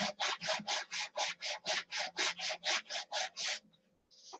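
A sanding block scrubs back and forth over a freshly painted surface in about fifteen even, rhythmic strokes, close and fairly loud, then stops into near silence.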